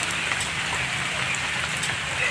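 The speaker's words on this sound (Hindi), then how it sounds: "जैसे ही मैं गेल नदी में पहुँचा तो बारिश बहुत हो रही है" Heavy rain pours steadily on the Gel river in Mahendranagar, Kanchanpur, Nepal, a dense, even hiss of drops striking water and ground close by, with no voices.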